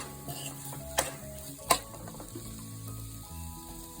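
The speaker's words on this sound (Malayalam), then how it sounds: "നന്നായിട്ട് മിക്സ് ചെയ്ത് പച്ചമണം മാറുന്ന വരെ വഴറ്റുക" Paneer masala sautés quietly in a pan with a soft, continuous sizzle. A spoon stirs it and knocks sharply against the pan twice, with no voice present.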